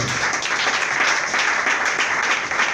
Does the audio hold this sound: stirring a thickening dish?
no